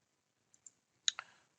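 A computer mouse double-clicks: two faint quick clicks, then a sharper, louder pair of clicks in quiet surroundings.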